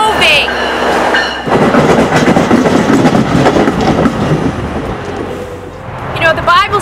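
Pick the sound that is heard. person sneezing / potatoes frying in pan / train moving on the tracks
train moving on the tracks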